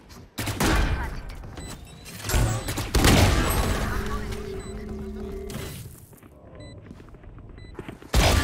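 A Valorant match with rapid bursts of gunfire and sharp explosive booms, close and loud, broken by a quieter stretch before another blast near the end, with a voice speaking over the action.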